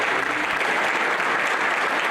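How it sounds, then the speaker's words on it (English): An audience gives a student body president a standing ovation, a dense burst of sustained clapping from a large crowd, steady and fairly loud from start to finish with no voices standing out. "Applause and a standing ovation."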